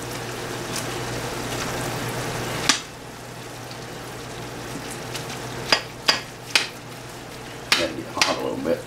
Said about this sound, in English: I'm gonna add this refried beans in there. Get that chopped up real good.